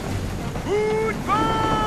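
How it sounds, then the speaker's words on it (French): A gust of wind strikes a sailing ship in Assassin's Creed 3, a loud, rushing blow with rising whistling tones on top, two surges in close succession. "le coup de vent"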